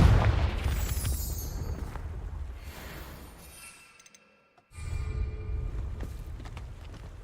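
A Confringo spell explosion in the Hogwarts Legacy video game: a loud blast with glassy, shattering crackle that fades into a brief near-silence before the game noise returns.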